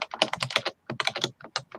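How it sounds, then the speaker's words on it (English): Rapid typing on a computer keyboard, clustered bursts of sharp clicking keystrokes with short pauses, close and crisp. "that's not me typing, by the way, so just in case I always get blamed for being a loud typer"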